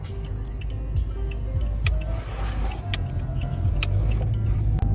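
Toyota Aqua in motion, heard from inside as a steady low road rumble with light ticks and small clicks from the cabin, and no clear voices.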